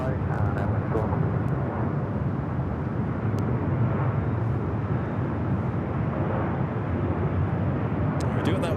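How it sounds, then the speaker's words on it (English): Emirates Airbus A380 taking off at LAX, heard as a steady, loud, broad jet engine roar that holds constant throughout, with faint voices of people talking underneath. "Flight 216 heading back to Dubai in this A380 Super."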